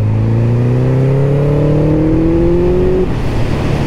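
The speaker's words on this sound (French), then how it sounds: "Ça y est, ça commence à péter. Ça y est, le pot se libère." A car engine revs hard and climbs steadily in pitch for about three seconds, loud and close, then drops off as the exhaust starts to crackle and pop.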